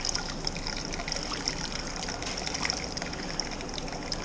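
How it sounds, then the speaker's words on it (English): Sparge water pours onto a grain bed during a homebrew batch of smoked rauch-style beer, a continuous close trickling and splashing stream running steadily throughout. "You don't pour sparge water on your hand."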